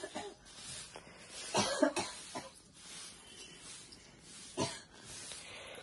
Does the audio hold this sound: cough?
yes